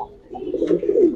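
A red checker pigeon gives one short, low, throaty coo, close and clear, with no talking over it.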